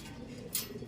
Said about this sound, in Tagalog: Ayan yung ibon.